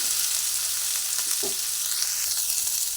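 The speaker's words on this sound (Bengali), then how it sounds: "এবারে একসঙ্গে পেঁপে আর আলু দুটোই ভেজে নিচ্ছি" Papaya and potato fry together in a pan with Kashmiri chilli powder, giving a constant loud sizzle and crackle, with a few soft scrapes of stirring.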